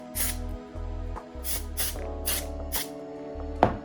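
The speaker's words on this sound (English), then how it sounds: "And then just spray some of your texture spray on." Short hiss of texture spray misted onto hair, a few distinct sprays in quick succession over a low steady hum, close to the microphone with no talking.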